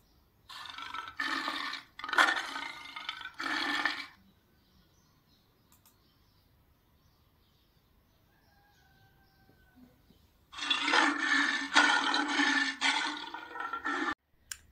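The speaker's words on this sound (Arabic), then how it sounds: "صوت الاسد الاسد هو ملك الغابه وصوته اسمه زئير" A lion roars in two long, loud bursts separated by several seconds of near silence, the second roar lasting a little longer.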